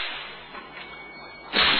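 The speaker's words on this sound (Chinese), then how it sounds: "这个 Philip 要先试一下这个小试牛鞭啊" A bullwhip not made of cowhide is swung in a test, a faint swishing build-up followed by one sharp, loud crack at the end, heard alone.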